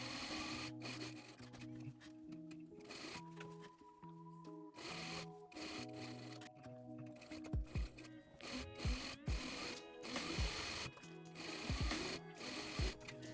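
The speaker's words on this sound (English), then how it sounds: "I am sewing the neckline together." A sewing machine runs steadily, stitching a blouse neckline, its continuous mechanical whir and rapid needle chatter faint and close throughout, with slight shifts in pace and occasional clicks.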